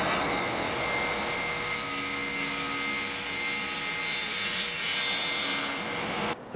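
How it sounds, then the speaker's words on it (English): A table saw with a 10-inch blade whines steadily through wood with a continuous high-pitched motor drone and rough cutting noise, close by, stopping abruptly at the end. "put in my regular 10-inch table saw blade and finish up the cut"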